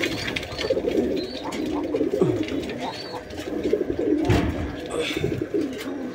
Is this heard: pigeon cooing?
yes